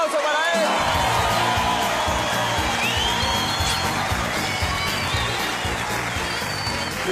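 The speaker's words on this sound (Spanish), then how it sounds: "¡El aplauso para él!" A television studio audience applauds and cheers for actor Víctor Gómez, steady clapping filling the room with occasional whoops rising above it, loud and sustained throughout.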